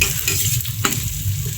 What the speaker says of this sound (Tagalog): Halo.